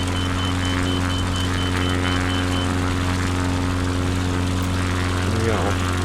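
Single-propeller aircraft in Microsoft Flight Simulator rolling on grass for takeoff, a steady loud droning engine hum with a constant tone throughout, close and continuous.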